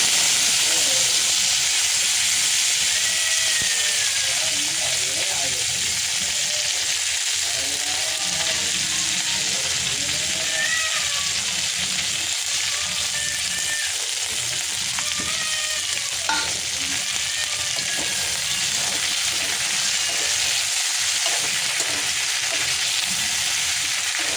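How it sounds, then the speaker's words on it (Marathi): Cluster beans (guar) fry in hot oil for a Kolhapur-style spicy dish. A steady, loud sizzle and hiss runs throughout, with faint stirring scrapes and no voice. "तर आता ह्याच तेलामध्ये आपण हा गवार भाजून घेऊया।"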